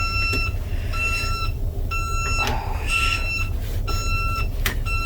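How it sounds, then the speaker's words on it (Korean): A car gives repeated short electronic beeps in a cold parked setting, evenly spaced chirps recurring in bursts over a low steady background hum. "차가 엄청 삐삐 옵니다"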